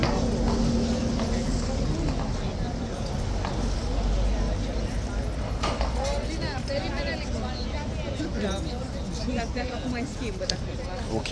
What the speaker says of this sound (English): We'll keep rolling until the 2 new horses are in the box